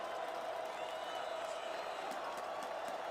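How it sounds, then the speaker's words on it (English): A loud crowd fills a college football stadium during a 2025 semifinal playoff game against Stephen F. Austin, with a steady, dense roar and scattered whoops and cheers running throughout. "With this noise, Stephen F. Austin, the loudest crowd they've played in front of this year"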